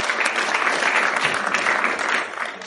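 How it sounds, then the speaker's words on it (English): An audience at an anime convention panel breaks into a full, dense round of applause, loud and steady, tapering slightly at the end. "Everyone give him a round of applause, please"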